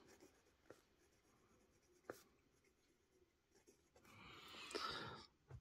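A 1950s Faber-Castell 53 SF fountain pen with a steel medium nib scratches softly across paper in short strokes, faint and close, with a brief busier flurry of writing near the end.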